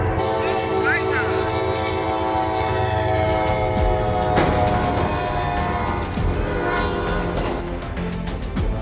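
A train passes a level crossing with loud sustained horn blasts over rumbling wheels and rail noise, and voices can be heard talking under it.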